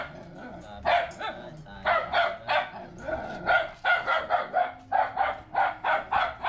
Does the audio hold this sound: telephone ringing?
no